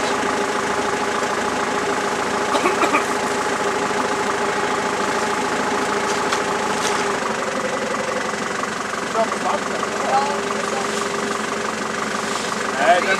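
An off-road vehicle engine idling after a water crossing with water over the hood, a steady rumbling run with slight knocking, loud and continuous throughout.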